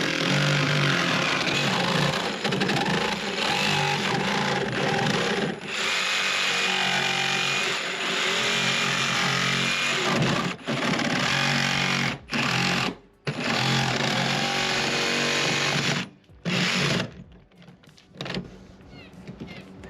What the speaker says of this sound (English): cut the template lines we traced earlier with a jigsaw